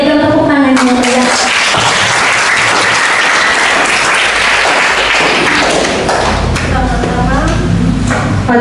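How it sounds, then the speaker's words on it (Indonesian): Loud, energetic applause from students at a high school retreat at SMA Santo Arnoldus Janssen Kupang, rising after a voice and music fade and filling the room with dense, close clapping, with some thumps and a low rumble near the end. "Mari kita berikan tepuk tangan yang meriah."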